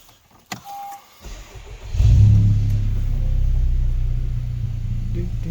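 A 2016 Honda Civic Type-R FK2, a 407bhp car, cranks over after a couple of clicks and settles into a loud, steady low idle rumble that holds without interruption.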